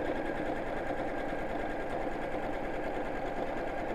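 Close, continuous hum and rapid needle chatter from a sewing machine top stitching fabric, steady and even throughout with no voices.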